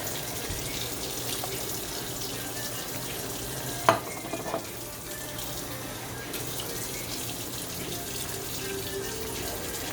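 Water runs steadily from a tap into a pot, a continuous close splashing wash with a brief clink partway through.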